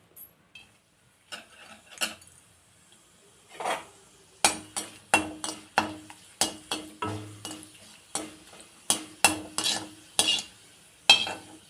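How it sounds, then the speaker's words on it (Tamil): Tamarind with curry leaves being dry-roasted in a pan, heard as a run of sharp scraping and clacking stirs against the metal, sparse at first and then quick and steady, close and moderately loud with no talk. "இதுலேயே இந்த புளியும் லைட்டாக நம்ம வறுத்து எடுத்துடலாம்"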